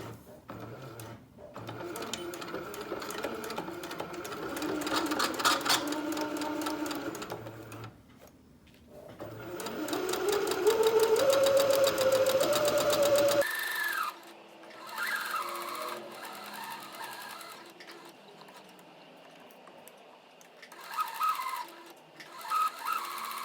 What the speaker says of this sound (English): make sure you backstitch at the beginning and at the end of each seam